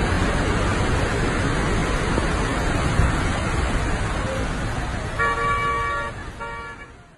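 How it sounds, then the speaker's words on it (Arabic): Cars driving along a rain-flooded road in Medina, a steady loud wash of water spray and tyre hiss that fades toward the end, with a brief car horn sounding twice near the close. "سيارات مصقعة يمين يسار"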